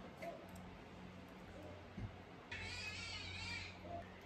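Several cats meow and yowl in a squabble, with a louder caterwauling burst in the second half over steady low background hum.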